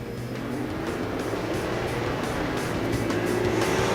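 Late model race cars roar around the Waterford Speedbowl oval, a steady, fairly distant engine drone rising slightly as the pack sweeps into a turn.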